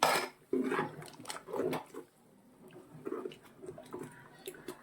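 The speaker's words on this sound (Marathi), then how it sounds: "मी एकदा पूर्ण फेटून घेत आहे" Millet papad batter is whisked in a cooking pot, with a few quick scraping, knocking strokes against the pot, louder at first and then softer and sparser, with no talk.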